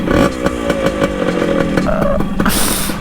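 A 1998 Yamaha RT100 two-stroke motorcycle engine runs close and loud right after a kick start, with a buzzing, rapid-firing idle and a quick blip of revs near the end.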